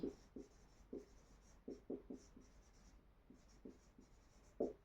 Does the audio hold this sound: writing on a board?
yes